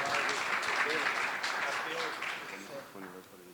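Audience applause rising across a conference hall as a speaker is welcomed onto the TDC stage, a broad, dense wash of clapping with voices and cheering mixed in, fading slightly toward the end.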